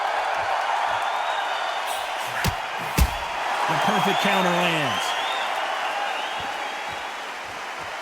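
Dense, steady crowd roar and cheering fill a boxing arena in the video game Undisputed, with a capacity crowd swelling slightly midway, beneath continuous commentary and a couple of sharp punch impacts.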